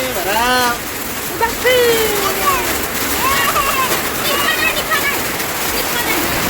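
Heavy rain pours and splashes steadily, loud and continuous, while voices shout and talk over it.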